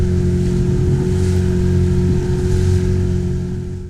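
A small two-stroke outboard motor drones loudly and steadily nearby, a buzzing engine hum over splashing water that eases off slightly at the end.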